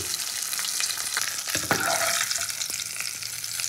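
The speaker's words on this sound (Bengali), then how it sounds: "গ্যাসের ফ্লেমটাকে জোর দিয়ে মাছগুলোকে খুব ভালো করে আমি ভেজে নেবো" Katla fish pieces frying hard in hot oil in a pan over a high gas flame, a steady close sizzle with brief louder spits and stirring clatter throughout.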